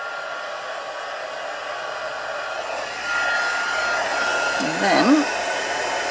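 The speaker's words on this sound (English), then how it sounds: "the key with your heat tool is to make sure it's warm before you use it" A crafting heat tool blows hot air in a continuous, moderately loud rush that grows a little stronger partway through, with a short spoken phrase heard briefly near the end over the steady whoosh.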